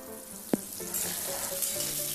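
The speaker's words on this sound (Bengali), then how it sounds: "এবার আমি যে আলুটা কেটে রেখেছিলাম সেই আলুটা ওই তেলে দিয়ে ভালো করে নাড়াচাড়া করে নেব।" Cut potatoes tossed into hot oil and stirred, one sharp clack early, then a steady sizzle that grows and holds for the rest of the moment.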